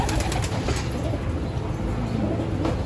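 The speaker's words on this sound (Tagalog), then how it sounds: "Ito mga ibon namin mga kalapatids" Pigeons coo in a loft aviary, a dense layer of low, throaty cooing from many birds nearby, with continuous wing and shuffling noise and no clear talking.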